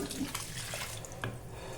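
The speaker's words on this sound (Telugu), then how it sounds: "జార్ కడిగిన వాటర్ కొంచెం పోసుకోండి." Water rinsed out of a blender jar is poured into a pan of chicken curry being made for pulao, giving a short, steady splashing pour lasting under two seconds, close by, with no talking.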